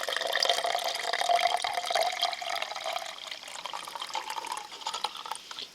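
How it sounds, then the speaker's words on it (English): Water pours from a cup over ground acorn powder in a container, a moderately quiet continuous splashing trickle that fades as the pour finishes. "I'm going to pour 1 cup of water over the top of it"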